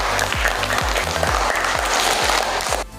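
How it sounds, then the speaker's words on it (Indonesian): Classroom applause for student dance groups during a dance lesson, a dense steady clapping that runs loud for about three seconds, with a repeating low tonal pattern underneath, then cuts off abruptly near the end. "Ibu berikan tepuk tangan kepada seluruh kelompok yang sudah"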